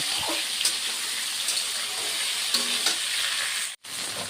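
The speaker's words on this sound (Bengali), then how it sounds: "সজনে আলু অল্প ভেজে নিলাম" Drumstick and potato pieces frying in oil in a pan for a Bengali mustard-paste vegetarian dish, a steady loud sizzle with occasional stirring clicks and a brief dropout near the end.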